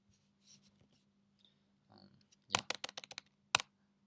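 A quick burst of keyboard key clicks, about eight sharp taps in a row, then one more, preceded by soft murmured speech and a steady low hum.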